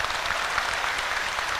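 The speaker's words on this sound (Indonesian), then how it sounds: "tepuk tangan sing banter" An audience applauds at a Nahdlatul Ulama centenary gathering, a faint, steady wash of clapping heard from a distance with no talk over it.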